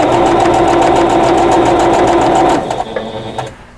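A sewing machine stitches a quilt block seam in one loud, close, steady run with a rapid rhythmic needle beat, then slows and stops near the end.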